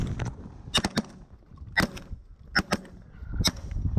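Several sharp shotgun blasts fired at ducks during a rainy, muddy duck hunt in Canada, spaced irregularly over a few seconds with wind noise and movement in between.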